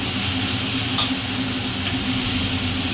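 Ginger stir-fried in a pan for ghugni, a steady close sizzle with faint scraping, with one or two brief knocks of the utensil.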